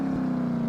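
Car engine held at a steady drone on a dyno test run in Car Mechanic Simulator, a constant even tone with no audible revving rise, loud and alone over a brief moment.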